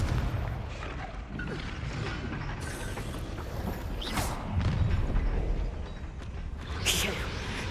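Blasting spell explosions in the Hogwarts Legacy video game, sharp bursts near the 4 and 7 second marks over a continuous busy combat din with scattered mechanical clanks.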